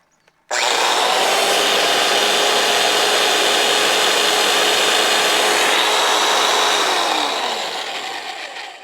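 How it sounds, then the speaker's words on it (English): An oscillating spindle sander starts abruptly and runs with a loud, steady, close motor whine and hum, then slowly spins down and fades near the end. "Here's one of them, an oscillating spindle sander."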